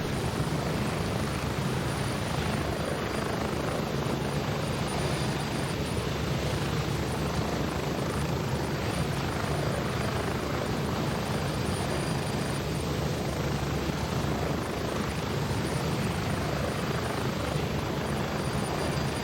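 Helicopter flying in the Gray Zone Warfare video game, a loud, steady rotor and engine roar filling the whole stretch without letup, heard from close as if riding aboard, with no voices.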